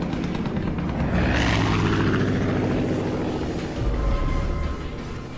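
Propeller airplane in the Far Cry 5 video game, a steady loud engine drone passing overhead for the whole stretch, swelling slightly and fading again with no speech.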